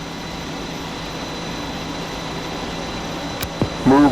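A simulated F-4E Phantom jet engine starting up in Digital Combat Simulator: a steady low cockpit drone with a couple of brief clicks, then a rising whine near the end.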